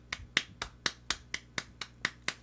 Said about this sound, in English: So like if I start clapping right here